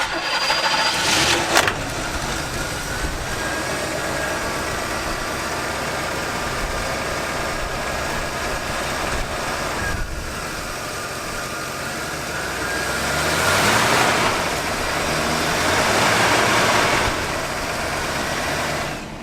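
A square body Chevy truck's engine runs while the transmission is tested. It gives a steady mid-pitched idle with a faint tonal whine, rising and swelling in revs toward the end, with a brief knock early on.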